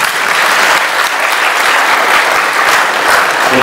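An audience claps steadily, a dense, loud wash of applause that continues evenly throughout, with no speech over it.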